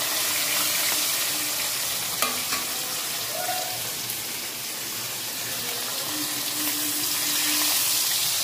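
Brinjal slices frying in hot oil in a home kitchen, a steady broadband sizzle with a few soft clinks of a utensil against the pan.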